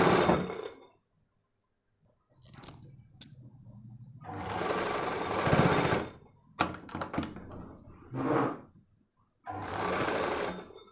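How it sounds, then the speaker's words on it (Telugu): A sewing machine stitches the lining of a collar-neck blouse, running close in several distinct bursts of rapid mechanical chatter separated by short pauses, with no voices. "ఈ విధంగా మనం కుట్టుకోవాలి."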